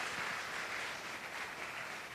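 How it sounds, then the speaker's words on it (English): An audience gives a round of applause at a university math fair, a steady, even wash of many hands clapping, faint and somewhat distant, with no voices over it. "Can I have a round of applause, please?"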